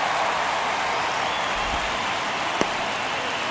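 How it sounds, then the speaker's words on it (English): Crowd at a Guardians–Twins baseball game in the stadium, a sustained broad roar of cheering and applause held at a steady level, with one brief sharp knock near the end. "you can feel this crowd waking up a bit here"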